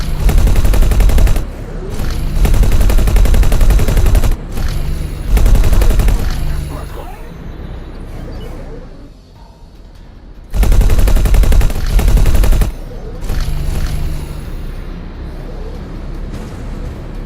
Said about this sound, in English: it's only shooting dumbfire missiles, because that's a lot of missiles they're shooting at me